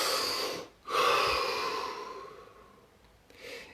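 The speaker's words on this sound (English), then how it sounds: "Deep breath." A person takes a deep breath in, a long, close airy inhale that swells and then slowly fades, followed by a softer breath at the end.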